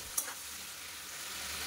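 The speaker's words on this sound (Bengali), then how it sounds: "তো চিংড়ি মাছটা একটুখানি ভালো করে ভেজে নেব।" Large prawns fry in a pan with a loud, steady hissing sizzle, opened by a single sharp clink near the start.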